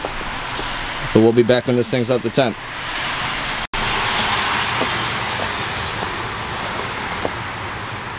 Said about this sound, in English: I live right behind a major highway, road, whatever, so there's a lot of car traffic